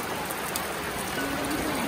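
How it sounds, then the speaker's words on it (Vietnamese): Steady rain falls outdoors at a house-building site, a dense, continuous hiss of drops on surfaces throughout, with faint voices beneath it. "làm được có một lúc lại mưa rồi"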